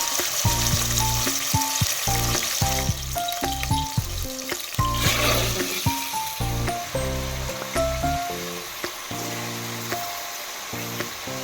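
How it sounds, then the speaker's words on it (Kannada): Mutton hits hot oil in a pan for a home-style mutton sambar, with a continuous sizzle of frying under a dense run of sharp clinks and taps from cookware. "ಬಿಸಿ ಆಗ್ಯದ ನೋಡ್ರಿ ಇವಾಗ ಇದು ಮಟನ್ ಹಾಕೋಬೇಕು"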